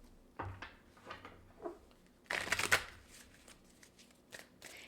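Oracle cards being shuffled up close, with soft papery riffles and taps building to a louder burst of rapid card shuffling near the middle, then quieter handling.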